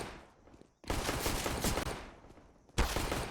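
Bursts of rapid gunfire in a Counter-Strike match, including a headshot, loud and dense, with a brief lull before a sharp final burst.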